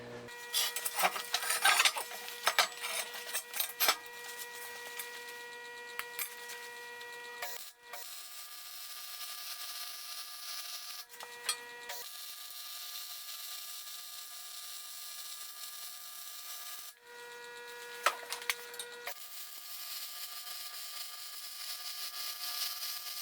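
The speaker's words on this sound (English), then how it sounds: "I'm going to flip it over and reach in and do another weld on the inside." Welding inside the rear bumper of a 2001 Chevy 2500HD produces long spells of steady crackling buzz. Short pauses break the buzz, and there are sharper clattering bursts near the start.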